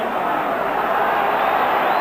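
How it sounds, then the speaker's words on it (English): Steady roar of a large football crowd of nearly 40,000 at Ibrox Stadium during a 1989 Rangers versus Dunfermline match, a dense continuous murmur with no distinct cheers. "Really excellent crowd in Ibrox today"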